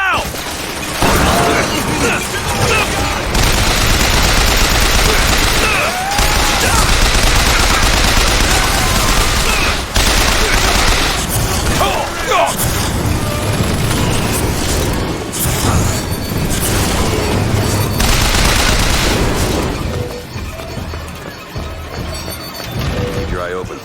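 Sustained heavy gunfire from an automated turret in the BioShock Infinite video game, loud and continuous for most of the stretch with crashes, booms and mechanical clatter, fading near the end, with voices talking over it.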